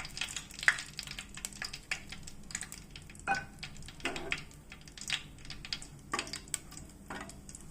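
Bay leaf, cinnamon and cloves fry in hot oil in a pan, a soft, close sizzle broken by scattered sharp pops and crackles, with no talking.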